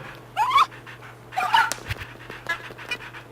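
A puppy in the Nintendogs video game pants in quick breathy bursts, with soft whimpers over a low steady hum, and no talk.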